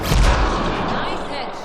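A heavy boom and rumble from a gunshot in the sci-fi shooter Mass Effect Andromeda, loud at the start and then fading into a reverberant tail over under two seconds.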